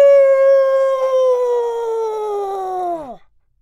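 A dog gives one long, sustained howl that holds steady for about three seconds, then drops in pitch and cuts off, loud and close with nothing else around it.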